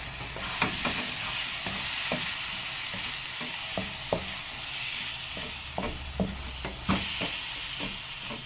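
Green and red bell peppers sizzle in a pan with leeks and onions, a steady frying hiss broken by repeated light clicks and scrapes of stirring, close and continuous, with no talking.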